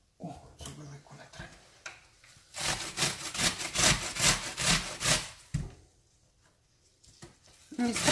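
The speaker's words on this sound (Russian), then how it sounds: "И натрем сюда одну луковицу." An onion is rubbed against a grater in rapid rasping strokes that come in a dense burst midway, close by, with a voice speaking briefly before and after.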